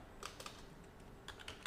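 Quiet, close clicking of a computer keyboard as a single word is typed, a few quick keystroke bursts with short gaps and no speech.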